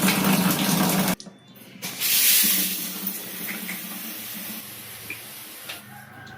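Water runs from a newly installed 4-in-1 shower set with a five-mode head, a steady hissing spray after a short pause, fairly close and continuous.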